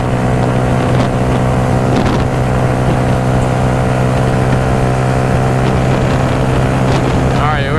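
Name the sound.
motorcycle engine revving near 8,000 rpm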